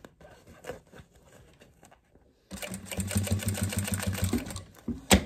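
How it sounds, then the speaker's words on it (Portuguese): A sewing machine stitches a fabric toiletry bag, starting midway with a rapid, steady mechanical patter up close, after a stretch of quiet handling noises. "Pra costurar essa necessaire, vocês podem ver que eu não usei nenhum estruturador."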